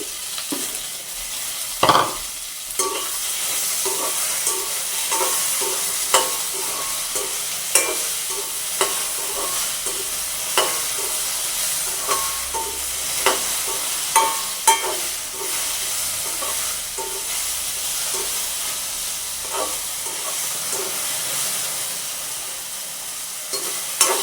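Chopped okra fries in a pan with a continuous crackling sizzle, while a utensil scrapes and stirs in regular strokes that punctuate the hiss.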